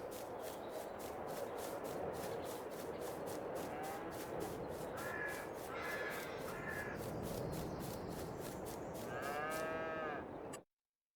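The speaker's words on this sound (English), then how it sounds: "beef cows" Beef cattle moo in Farming Simulator 22, with repeated loud lowing calls standing out over a constant dense farm ambience and a steady rhythmic ticking, crow-like caws mixed in near the end.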